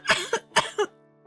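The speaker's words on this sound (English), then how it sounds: "and I end up coughing." Dust kicked up by someone running through a sushi bar sets off a fit of four sharp, close coughs in quick succession, followed by a faint throat sound.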